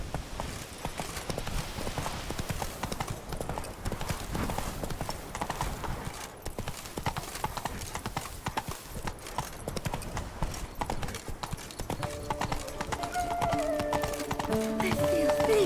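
Roach, the horse in The Witcher 3, gallops with loud rapid hoofbeats throughout, a whinny comes through and game music rises near the end.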